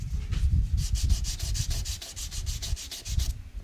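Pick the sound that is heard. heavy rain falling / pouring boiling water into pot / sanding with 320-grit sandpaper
sanding with 320-grit sandpaper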